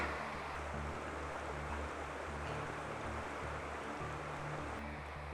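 Creek water rushes steadily beside a portage trail into Macintosh, a constant broad wash of flowing water with no breaks or voices.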